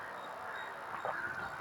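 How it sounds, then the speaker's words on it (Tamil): Birds in a tree call with honking, goose-like cries as they fly off, faint over a steady rustling background. "இந்த மரத்தில் உள்ள பறவைகள்லாம் ஜாலியாக பறந்து போயிட்டுருக்கு."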